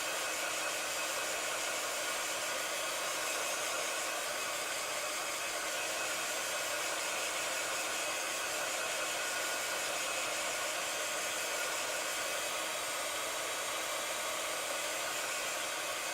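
A hair dryer blows steadily on a mixed media seahorse painting, a loud, continuous, even whoosh that holds for the whole stretch with no voices.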